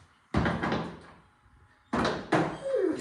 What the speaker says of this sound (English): The door falls off.